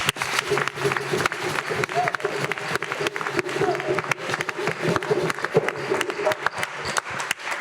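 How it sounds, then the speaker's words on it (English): Audience applause for panelists at a club celebration event, uneven clapping from a moderate crowd with voices mixed in throughout. "Can we give our panelists another round of applause, please?"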